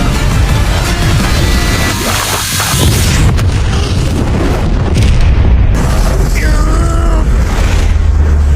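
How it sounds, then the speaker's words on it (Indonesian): An explosion from a leaking gas tank in an anime scene: heavy, booming bursts with rumbling debris that swell and fade over several seconds, followed by a faint voice. "tabung gas yang bocor menyebabkan ledakan dan membuat Yusuke terpental"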